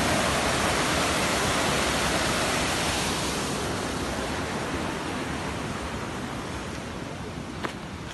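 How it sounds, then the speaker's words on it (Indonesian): Heavy, steady roar of Curug Walet waterfall with a large volume of water pouring down, a dense broadband rush that stays loud and constant throughout. "Nah, Curug Walet nih. Gede banget airnya."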